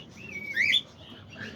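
A pet cockatiel whistles a short bright phrase, rising and sliding, close to the microphone against a quiet room with soft chirps from other birds around it.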